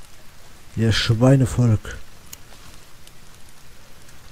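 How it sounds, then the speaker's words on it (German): Steady rain in the survival video game The Forest: a soft, continuous hiss that runs throughout, briefly covered by a short shouted voice line near the start. "Es regnet und regnet."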